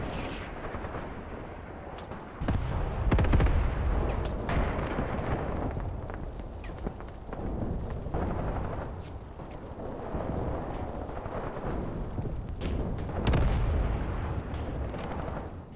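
Battlefield gunfire in the tactical war game Graviteam Tactics, a steady rumble of distant artillery and rifle reports punctuated by sharp bullet cracks, dense and continuous throughout with no one speaking.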